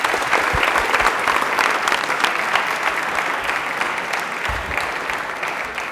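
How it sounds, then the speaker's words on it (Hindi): Loud, sustained audience applause fills a TV quiz show studio on DD Rajasthan, a dense even roar of many hands with no voices over it. "ताली एक बार जोरदार हो जाए प्लीज।"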